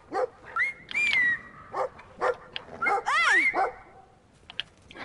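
Dog in the video game Brothers: A Tale of Two Sons barking and yipping in several short bursts, with a few whiny, rising yelps near the middle, fairly close and clear.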